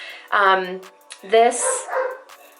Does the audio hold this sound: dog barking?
yes